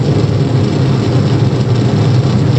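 Space shuttle launch heard from inside the crew cabin, a dense, continuous low roar with heavy rumbling vibration, loud and steady throughout with no voices.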